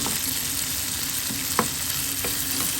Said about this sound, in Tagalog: Sinangkutsa ko muna yung karne.